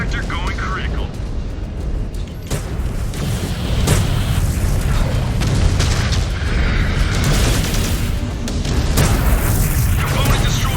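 A mech's reactor blows in MechWarrior 5 Clans, a heavy booming explosion rolling into a sustained roar and rumble with layered bursts, loud and close, with game voice lines heard over it.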